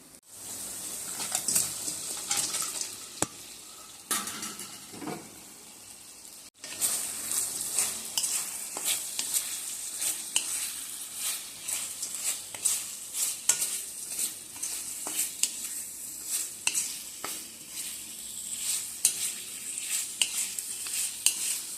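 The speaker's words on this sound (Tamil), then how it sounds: "நல்லா மிக்ஸ் பண்ணிவிட்டு நம்ம ஏற்கனவே ரெடி பண்ணி வச்சுருக்க ஃப்ரை பண்ண சிக்கனும் முந்திரியும் நம்ம இதில் சேர்க்க போகிறோம்" Fried chicken pieces and cashews are stirred into a sizzling dragon chicken sauce in a pan at an outdoor village cookstove. Repeated scraping strokes and clanks ride over a continuous close hiss for a long stretch.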